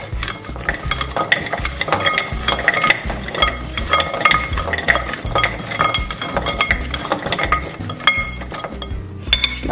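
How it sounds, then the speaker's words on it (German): A utensil scrapes and clinks repeatedly against a pan as vegetables dressed with salt, pepper and olive oil are stirred for a sheet-pan dinner. The knocks are close, busy and irregular, with no talk. "Das wird auch wieder gut umgerührt."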